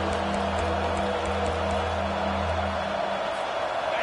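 Home stadium crowd roaring steadily in a college football video game, UMass versus Ohio State, a dense sustained wash of cheering with a low droning hum underneath, loud and continuous throughout.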